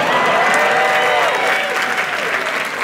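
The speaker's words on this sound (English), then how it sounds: "You can clap." An audience applauds a speaker presenting agricultural robots, a short burst of dense clapping from a crowd that fades slightly toward the end.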